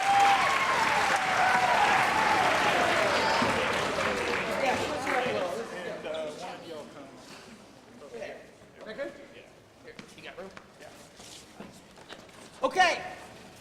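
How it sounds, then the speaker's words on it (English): A concert audience at McCarthy Auditorium claps loudly for a performance, the applause thinning out over several seconds before scattered claps and talking take over. "Give them a round of applause."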